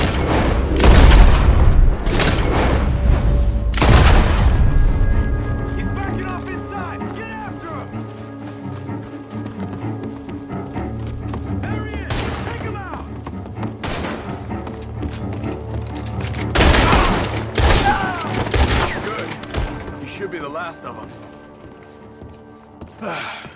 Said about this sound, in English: Gunshots are coming from that barn!